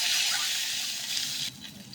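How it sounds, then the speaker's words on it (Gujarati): A glass of water is poured into a hot spice tempering of mustard seeds, chilli and curry leaves, giving a loud gushing splash and hiss that drops suddenly partway through and leaves a softer bubbling simmer. "1 ગ્લાસ પાણી વઘાર દઈશું"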